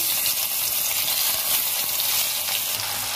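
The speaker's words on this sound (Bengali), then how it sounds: "তেলটা ভালো করে গরম করে নিয়েছি। এবার আমি একটা করে মাছ দিয়ে দেবো।" Small puti fish frying in hot oil in a wok, a steady dense sizzle with a bright crackling hiss that holds evenly throughout without pause.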